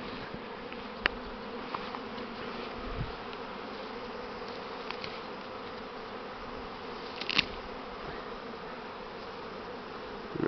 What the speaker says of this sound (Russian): Летают пчелы покуда.